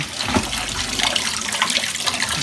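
Coolant leaking from the engine of a Mazda Friendee runs out in a steady, close watery trickle and splash, continuous throughout with no talking.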